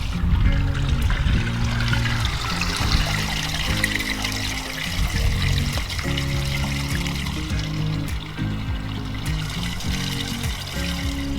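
Continuous trickle and splash of water draining from an RV travel trailer's gray water valve, a steady close-up flow that holds evenly throughout.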